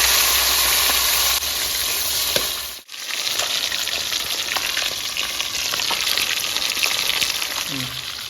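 Fish sizzles and crackles steadily in hot mustard oil, a dense, continuous frying hiss close up with a brief dip near the middle, in a rustic village-style kitchen cooking fish with taro stolons.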